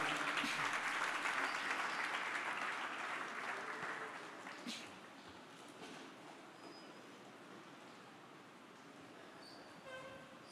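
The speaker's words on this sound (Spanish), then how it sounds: "Dele un aplauso al Señor y pase a su lugar." Applause fills a church service, starting as loud, dense clapping from the congregation and then fading gradually to scattered claps and quiet, with faint voices underneath.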